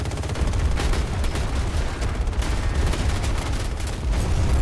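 Rocket pods firing from a jet in Battlefield 2042, a dense, loud, continuous barrage of rapid thudding blasts with heavy low rumble throughout.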